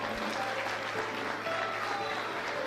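Church congregation applauding during a live Pentecostal service, a steady broad wash of clapping that holds at an even level throughout, with faint voices and tones mixed underneath.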